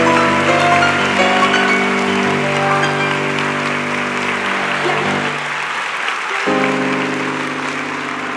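An audience rehearses applause at a testimonial event, steady crowd clapping that fills the room, loud and sustained, with a low droning hum running underneath before easing slightly near the end.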